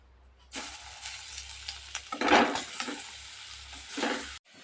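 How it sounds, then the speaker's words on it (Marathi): Grated carrot sizzles and crackles as it is stirred in hot ghee for carrot halwa, a steady close frying hiss with scraping strokes that swells twice before cutting off abruptly. "आपलं तूप चांगलं असं गरम झालेलं आहे आता आपण याच्यामध्ये गाजराचा खीस घालून घेऊया"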